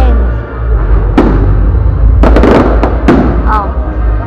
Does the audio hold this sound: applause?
no